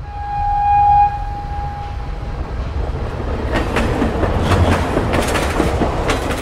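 A train runs through a forested village area in Malkangiri district, Odisha. A loud horn blast opens, then a heavy rumbling clatter of wagons rolls past, close and sustained.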